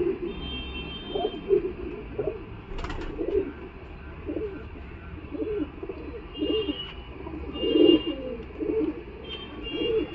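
Soft, repeated cooing from pigeons at the Galiff Street pigeon market, several birds calling in uneven bursts over a low hum of market noise, with one brief sharp knock partway through.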